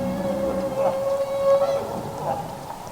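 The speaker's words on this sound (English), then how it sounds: "listen to this recording our guest made of a humpback whale" A humpback whale vocalizes in a field recording, one long tonal moan that holds steady for about a second amid broadband background noise.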